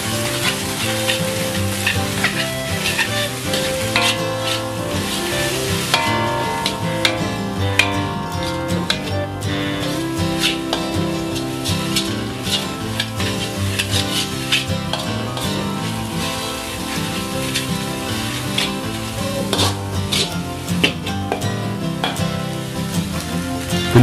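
Sliced spring onion and egg stir-fried in a pan with bean sprouts nearby, a continuous dense sizzle with steady crackle and repeated scraping of the spatula, close and loud with no speech.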